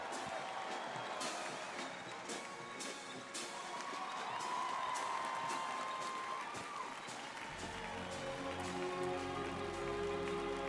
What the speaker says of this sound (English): Give them a big round of applause, the 82nd Airborne Ceremonial Band.